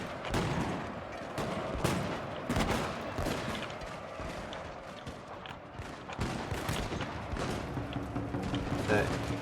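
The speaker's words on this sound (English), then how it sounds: "I've been able to fire off a few volleys at them" Musket volleys from gun formations in the samurai-era strategy game Total War: Shogun 2, repeated cracking bursts of massed fire over a continuous battle din, with a voice talking throughout.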